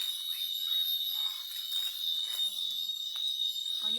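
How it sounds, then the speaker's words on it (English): Simulated tinnitus: a thin, piercing, continuous high-pitched ringing tone held steady throughout, with faint soft background noises underneath. "A person who got tinnitus, this is the sound they have inside the ears."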